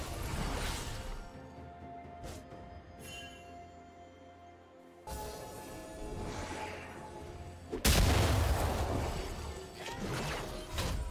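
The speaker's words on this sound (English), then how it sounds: "Blue team's turret has been destroyed." A turret is destroyed in League of Legends during a Korean Grandmaster match. Dense game action runs throughout, broken by heavy crashing impacts and a loud crumbling blast near the end.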